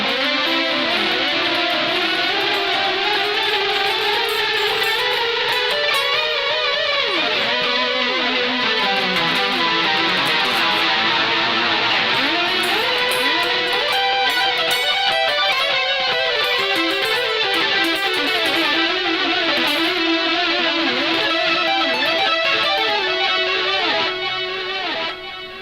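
A shimmering, bell-like Poly Effects crystal synth guitar patch from a BOSS GP-10 with GK3 pickup rings out continuously, thick with delay and reverb, notes cascading and overlapping at a steady loud level.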